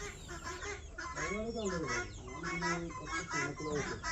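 Chickens, black Kadaknath hens, cluck and squawk at a fish farm in a busy overlapping chorus of calls, fairly close, mixed with other birdlike honks and outdoor background noise.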